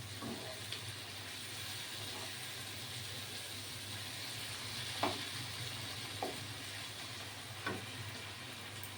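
Garlic chicken pieces frying in a pan, a faint, steady sizzle with a few soft scraping stirs scattered through.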